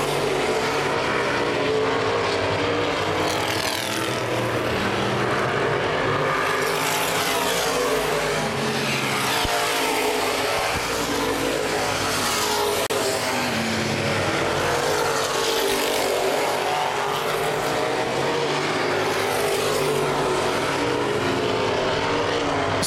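Open wheel modified race cars roar around the oval at Baer Field Speedway, a dense, continuous engine drone that swells and fades as the field passes, loud throughout with no pauses.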